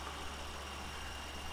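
Tractor engine running steadily in Farming Simulator 2015 while working potato fields, a constant low idling drone with even mid-range noise, close and alone throughout.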